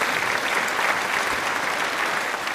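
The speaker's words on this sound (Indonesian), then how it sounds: "Tepuk tangan untuk kita semua." A class bursts into continuous applause during a math lesson, a loud, dense, even patter of many hands clapping throughout.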